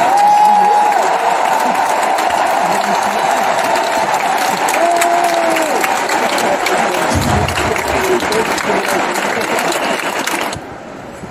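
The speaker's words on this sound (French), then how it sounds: "Applaudissez les soignants." A large crowd at a presidential campaign rally applauds healthcare workers, with sustained loud clapping and scattered cheers throughout before it cuts off abruptly near the end.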